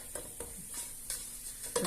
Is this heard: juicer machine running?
no